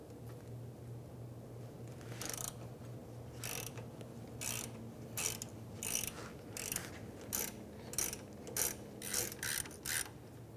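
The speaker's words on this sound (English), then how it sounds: "We're going to remove this bolt here, holding in our bracket in the middle of our brake line" A ratchet clicks in quick bursts while a 12 mm bolt is backed out of a brake line bracket on a 2003-2011 Honda Element, the clicking speeding into a rapid steady rhythm toward the end, close and fairly quiet.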